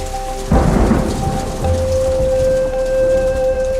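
Heavy rain pours steadily with a rumbling gust and deep thunder swelling partway through, while a faint sustained tone hums underneath.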